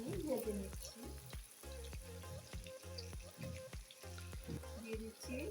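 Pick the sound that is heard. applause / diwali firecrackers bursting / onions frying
onions frying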